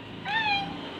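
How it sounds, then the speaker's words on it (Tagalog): A single short cat meow rises and falls, close and fairly loud, outside a house on the street at night. "Ayun, mga pusa."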